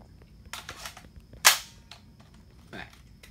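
A video game gun fires one loud, sharp shot midway, preceded by a few quicker mechanical clicks and followed by a softer rattling handling noise, close and prominent with no speech.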